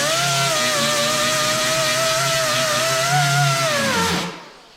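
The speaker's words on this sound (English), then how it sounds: "Got my little grinder with a 36 grit pad on it" A small handheld grinder fitted with a 36 grit pad grinds a cut-off pin down to bare metal on a dented car panel, a loud steady whine that holds for about four seconds before spinning down and stopping.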